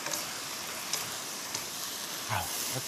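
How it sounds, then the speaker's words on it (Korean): Fish cake japchae with burdock, shishito peppers and sesame oil sizzles steadily in a pan, a soft continuous frying hiss broken by a few light stirring clatters. "이제 볶기 시작해요."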